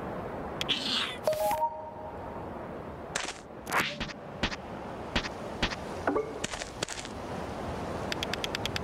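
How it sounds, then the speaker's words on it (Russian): Cat meows and small game sound effects in the video game A Space for the Unbound, several short mews and clicks scattered over a soft, quiet ambient background. "Мяу-мяу. Кошечка довольна."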